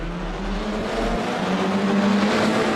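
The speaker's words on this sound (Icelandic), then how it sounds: "Ég heyrið bíluna byrja að þenja sig" Formula 4 race cars revving their engines at the start of a race in Miami, a loud, steady, building engine drone from several cars together.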